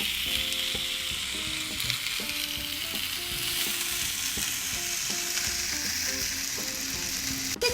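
Food sizzles steadily on a hot pan as it is grilled whole, a dense, even crackle close by, with occasional light scraping and a brief knock at the end, and no speech.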